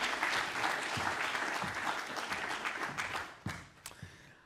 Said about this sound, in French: Je vous demande d'applaudir Carol Hartmann, Henry Reding, Christina Stuart et Michel Taine.